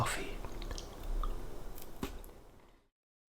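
Close-up chewing of a honeycomb chocolate bar, with crisp crunchy bites and moist squishy mastication for a few seconds before falling silent.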